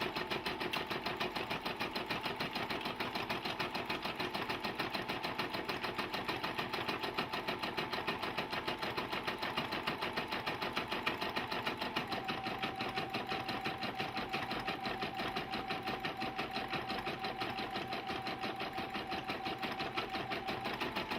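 A Brother PB6800 sewing and embroidery machine stitches out an embroidery design, its needle chattering in a fast, steady rhythm with a faint motor whine, close and continuous with no talking.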